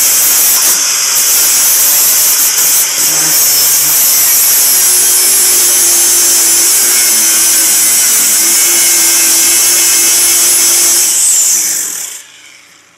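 An 80 grit sanding disc grinds rust off the metal of a 1969 Mustang, a loud steady hissing whine that runs unbroken for about twelve seconds before winding down at the end.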